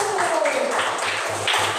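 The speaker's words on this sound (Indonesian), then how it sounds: "Kasih tepuk tangan Ika dulu" A classroom of students claps for Ika in a short burst of scattered, fairly close hand claps over a busy room while a voice talks.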